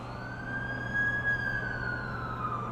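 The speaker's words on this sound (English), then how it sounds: "That's the ambulance I called." A wailing ambulance siren in the Amazing Spider-Man 2 video game sustains a steady tone over a low background hum, moderately loud and alone.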